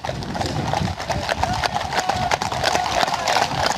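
Many cavalry horses' hooves clip-clop busily over rough ground at once, a dense, uneven clatter of a mounted troop moving together with a low rumble beneath.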